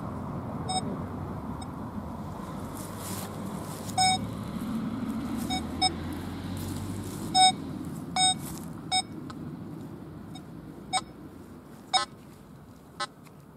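Nokta Score 2 gold metal detector sweeping a wooded area, giving short sharp beeps at irregular intervals over a steady background hum, with no talking.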